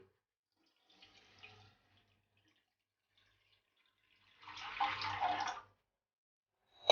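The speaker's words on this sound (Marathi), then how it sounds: "कढईत आता मी चार कप पाणी घालते" Four cups of water pour into a wok for sugar syrup in one short splashing rush lasting about a second, close by, after a faint earlier trickle.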